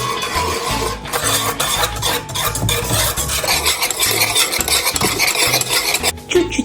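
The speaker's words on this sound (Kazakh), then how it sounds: "Араластырамыз." A spoon stirs a batter of egg, milk and oil in a bowl with close, rhythmic scraping and sloshing strokes that continue steadily with only brief pauses.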